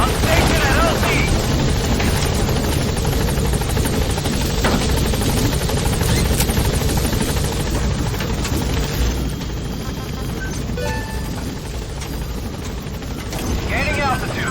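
Helicopter in the video game Metal Gear Solid V: The Phantom Pain, a loud steady rotor and engine roar that fills the whole stretch, with gunfire-like crackle mixed in and game voices over it.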